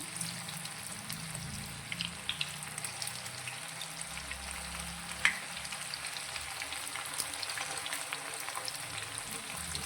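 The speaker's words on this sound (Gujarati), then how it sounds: "તો હવે નીચેથી એકદમ સરસ એવો ક્રિસ્પી નાસ્તો થાય ત્યાં સુધી તેને આપણે તળાવવા દઈશું." Green fenugreek (methi) snack pieces frying in oil in a pan over a medium-low gas flame, giving a steady close sizzle with scattered small crackles and pops throughout.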